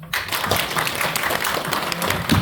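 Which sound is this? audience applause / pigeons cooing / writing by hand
audience applause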